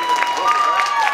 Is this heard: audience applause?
yes